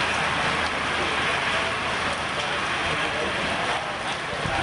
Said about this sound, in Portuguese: na hora do socorro começou a chover forte